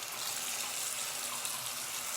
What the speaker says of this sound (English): So then I just run it under the water, squeeze it out until you don't see any more suds.